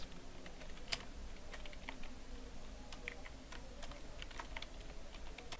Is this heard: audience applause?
no